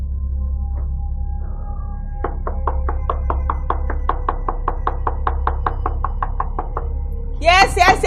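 Knocking on a locked door in a Nigerian movie scene: a steady run of about twenty quick, firm knocks over a low background hum, followed by a voice speaking at the end.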